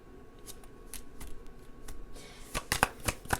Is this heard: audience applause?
no